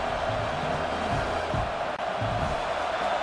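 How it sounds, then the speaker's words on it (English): A stadium crowd in College Football 26 roars continuously in the red zone during the Ohio State vs Michigan game, a dense, loud wash of cheering with distant swells and no clear speech. "And the crowd coming to life here, trying to help this defense down in the red zone."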